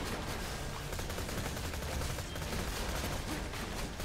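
A Conference Call gun fires in Borderlands 2 as a continuous, steady barrage of rapid shots that runs the whole time amid battle noise.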